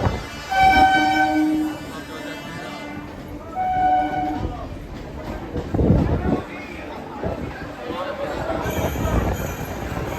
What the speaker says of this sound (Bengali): শেওড়াফুলি থেকে ট্রেন ছাড়ার পর দেখো ট্রেন পুরো খালি।